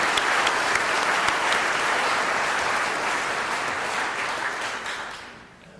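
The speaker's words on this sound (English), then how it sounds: "Please join me in a round of applause for all of these leaders." An audience at a civic association annual meeting claps steadily for its leaders, a dense sustained applause that fades out near the end.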